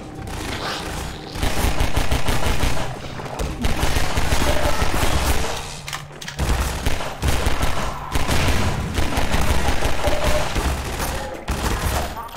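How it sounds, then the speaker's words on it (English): Bursts of automatic gunfire from the video game Half-Life 2 in City 17, rapid loud volleys repeating across the clip with short pauses between them. "Stop shooting!"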